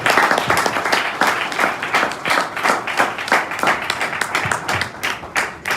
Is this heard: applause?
yes